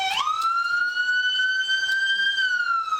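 Police car sirens wail continuously at close range, a single rising and steady electronic tone that holds for about three seconds with faint background noise.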